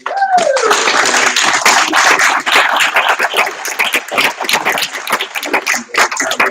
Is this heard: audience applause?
yes